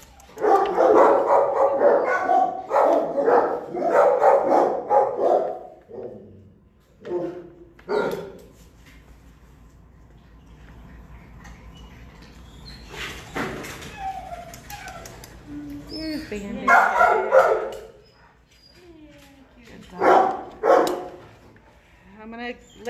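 Dogs at an animal shelter bark repeatedly in loud bursts, several yaps clustered early then scattered barks later, echoing in a kennel space, with a person talking between and over them.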